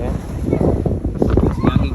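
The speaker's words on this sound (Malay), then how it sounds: "Angin kuat kan." Strong wind buffets the microphone in gusty, uneven bursts outdoors in Penang, with a low rumbling roar and faint voices underneath.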